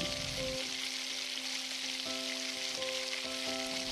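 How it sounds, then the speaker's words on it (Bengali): Duck meat frying in oil in a pan over a high gas flame gives a steady, close, even sizzling hiss, with a faint tonal hum running underneath throughout. "আমি এখানে প্রায় 10 মিনিটের মতন গ্যাসের ফ্লেম হাই করে মাংসটাকে ভেজে নিয়েছি।"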